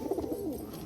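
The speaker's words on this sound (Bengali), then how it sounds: "এটা কিন্তু মাদি পায়রা" A female pigeon gives a short, soft coo, a low warbling call heard close by and quiet, with no voices.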